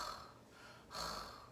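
A person mimics a loud breather with two heavy, breathy exhalations, the second stronger and closer, sounding alone with no other noise.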